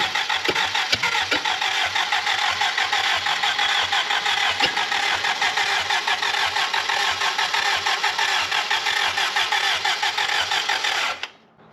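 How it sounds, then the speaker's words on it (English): Willys Jeep FC-150 cranking and creeping along on its starter motor alone, a loud, steady, continuous whir that holds for about eleven seconds before cutting off abruptly. "let's drive it off the starter motor"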